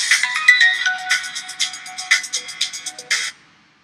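A telephone ringtone for an incoming call to a live radio call-in show chirps in a rapid, repeating electronic pattern for about three seconds, then stops.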